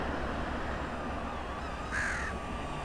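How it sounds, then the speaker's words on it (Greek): A crow gives one short caw at a middle distance over steady outdoor city background noise on a sunny day during a small drone flight. "Έχει και κάτι κοράκια εδώ."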